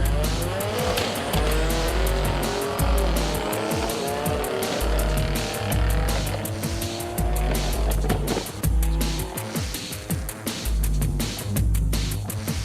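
Race car with an HKS 51R SPL turbo engine rated over 1,000 horsepower, loud and close, engine roaring and revving continuously alongside squealing tires throughout.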